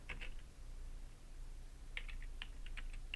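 Light, quiet clicks of typing on a computer keyboard, a short scattered burst at the start and another cluster of keystrokes near the end, with no talking.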